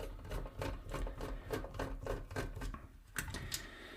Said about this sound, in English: I'm going to take these screws out.